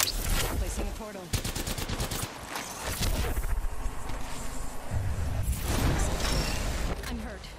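Automatic gunfire in a shooter video game, fast rattling bursts and heavy shots firing close and loud in stretches, with brief pauses between volleys.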